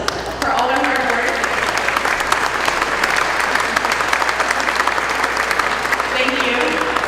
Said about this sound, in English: if you could help me in giving them a round of applause for all their hard work